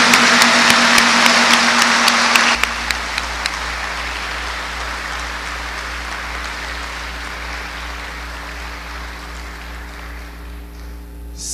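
An audience at a university event applauds warmly, a thick, even rain-like patter of many hands, loud at first, then dropping to a softer, steady clapping beneath a low hum.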